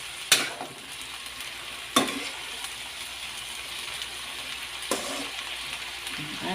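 String bean adobo stirred in a pan with no broth yet, a soft steady sizzle punctuated by three sharp utensil scrapes and clanks against the pan.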